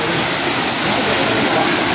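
Wading through knee-deep water inside a cave, with a loud, steady rushing and sloshing of water filling the whole stretch and no talk.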